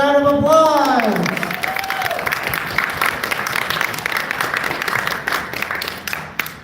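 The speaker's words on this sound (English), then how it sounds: "All right, give her a round of applause." A crowd at a Gunpla model competition breaks into applause and some cheering, a dense clatter of clapping that follows a brief rising and falling tone at the start, with a voice briefly over it.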